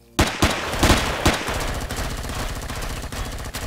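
Automatic gunfire in the space survival game Empyrion Galactic Survival: a few sharp single shots open, then a steady rapid machine-gun stream of close, loud bursts with no talk over it.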